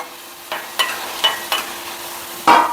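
Ingredients being stirred and fried in a pan, with a series of short scraping, sizzling strokes at uneven intervals, the last one louder and fuller, over a quiet steady background.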